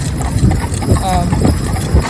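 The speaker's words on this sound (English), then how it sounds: "But that's old Harvey there, he's a stallion horse" Hooves of a stallion cob clop on a town road beneath a voice talking, with a low traffic rumble filling the background.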